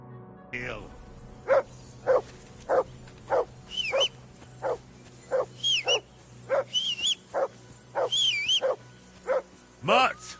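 A dog gives a steady series of short, evenly spaced barks and yips, fairly close and loud, with a higher whine or whimper near the end.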